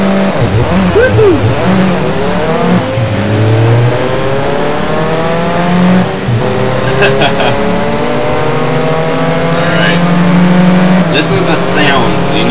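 Car engine revving hard in the racing video game Auto Club Revolution, rising and falling gear-change sweeps with tire squeal, loud and close, while a man cheers over it.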